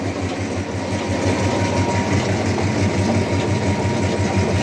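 Pellet mill driven by a 5.5 kW motor runs steadily nearby, a loud continuous mechanical drone with a low rhythmic hum and grinding texture, unbroken for the whole stretch.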